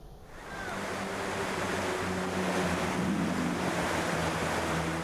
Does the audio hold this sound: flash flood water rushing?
yes